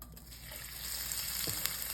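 Food sizzling steadily in a hot pan, a constant crackling hiss with a faint clatter near the end.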